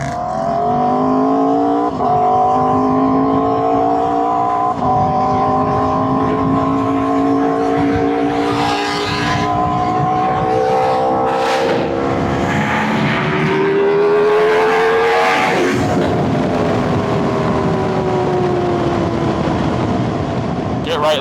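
A Lamborghini drives along the Pacific Coast Highway with its engine loud and close, pitch climbing through revving gear changes, drops and surges for the full stretch while people talk over it.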